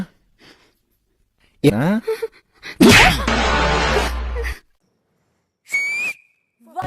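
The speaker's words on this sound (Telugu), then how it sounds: "విజిల్ గట్టిగా వినిపిస్తుంది" A loud whistle blast rings out, followed later by a second shorter whistle, with brief vocal sounds and gaps of near silence between.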